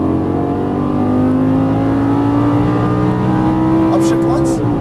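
Lamborghini Gallardo LP550 V10 engine accelerating hard on a race track, a loud close droning roar with steadily rising pitch, then a brief shift near the end.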